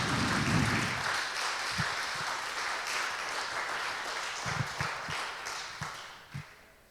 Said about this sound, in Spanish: ¿Cuántos pueden dar un aplauso fuerte?